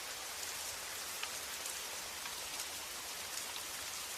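Gentle rain falling steadily, a dense, even hiss of drops on surfaces with no breaks or voices, soft and constant throughout.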